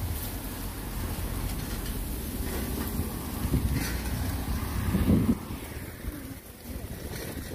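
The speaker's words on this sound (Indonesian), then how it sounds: "kuat angin." Strong wind gusting across an outdoor flea market at Dongmyo in Korea, a loud, steady roar of buffeting air that swells around the middle and eases slightly before rising again.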